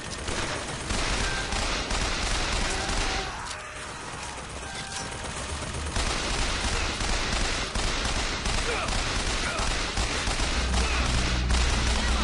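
Sustained machine gun fire from a shooter in Bioshock Infinite rattles loudly and nonstop at close range, with mechanical clacks woven into the long barrage.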